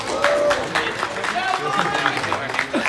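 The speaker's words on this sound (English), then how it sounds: "Round of applause for Louis." Audience applause for a competitor at a VEX university robotics tournament, scattered claps in a large venue rising and thinning over a few seconds, with voices talking over the clapping.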